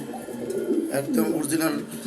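A pair of shouking pigeons cooing close by in soft, throaty, rolling coos, with someone talking over them.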